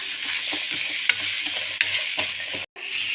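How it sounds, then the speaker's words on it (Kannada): Garlic and onion dry-roast in a pan without oil, stirred with a utensil that makes brisk repeated scrapes over a soft hiss. It sounds close and moderately quiet, with a brief cutout near the end. "ಇದಕ್ಕೆ ನಾವು ಎಣ್ಣೆಯನ್ನು ಹಾಕಬಾರ್ದು ಹಾಗೆ ಡ್ರೈ ರೋಸ್ಟ್ ಮಾಡ್ಕೊಳ್ಳೋಣ"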